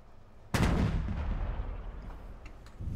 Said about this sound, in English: Once the gun is fired, it does reload.